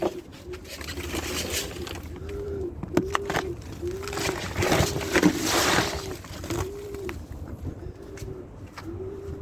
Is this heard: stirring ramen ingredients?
no